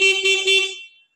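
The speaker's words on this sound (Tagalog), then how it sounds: "Syempre may busina." An ATV/UTV horn sounds three quick close toots in a row, a loud steady electric tone that ends cleanly, with no other sound around it.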